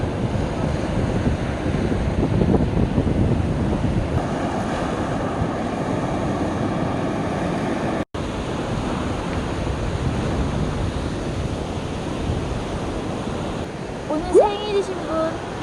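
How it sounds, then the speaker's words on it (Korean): Ocean waves wash onto the shore in Jeju with a continuous broad roar, mixed with wind buffeting the microphone, a brief dropout midway and a faint voice near the end. "파도다 파도 파도 파도"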